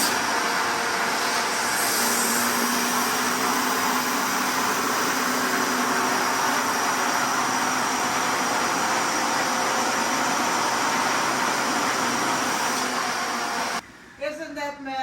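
Steady loud roaring whine of a vacuum cleaner sucking air out of a packing bag, running continuously close by, cutting off near the end with a brief rustle.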